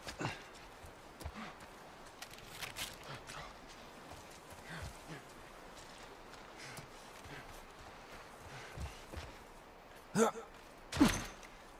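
Horses in The Last of Us video game, with soft hoof steps and snorting breaths scattered over a quiet outdoor ambience, a couple of louder close gasps or blows near the end.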